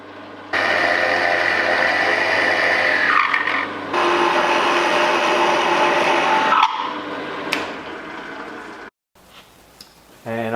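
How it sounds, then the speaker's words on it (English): Drill boring holes in reclaimed timber for dowels, several loud whining bursts of a few seconds each separated by brief pauses, close up, with no one talking during the bursts. "Now I'm just drilling some holes to add some dowels for the leg attachments."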